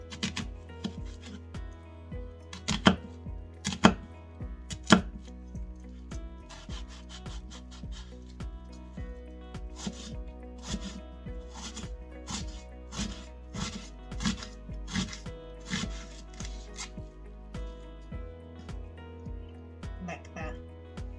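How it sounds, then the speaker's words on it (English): A knife chops two medium onions into very small pieces on a board: irregular taps and rubbing strokes that speed up and slow down, with a person talking throughout. "And I'm gonna chop it up into very small pieces."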